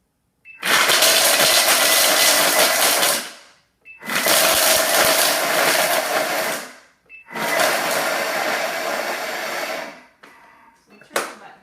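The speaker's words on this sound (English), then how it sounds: "There's a turbo button on here, which will put this to instant speed. So it's gonna get really loud." A blender on its turbo setting roars loudly through frozen strawberries and sugar in three bursts of about three seconds each, with short silences between, then a brief rattle at the end.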